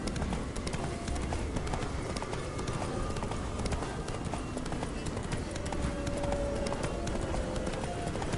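In The Witcher 3, a horse gallops with a rapid, steady clatter of hooves that runs throughout, joined by faint tonal game sounds and occasional low speech in the background.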